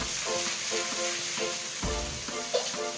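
Beef stir-frying in a hot pan for Thai basil beef: a steady, close hissing sizzle with soft stirring and scraping sounds throughout, and no talk.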